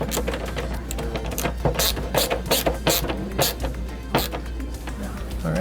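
Hand tool tightening a license plate mounting fastener on a digital license plate, giving a series of quick ratcheting clicks in short irregular bursts, close and moderately quiet over a low steady hum.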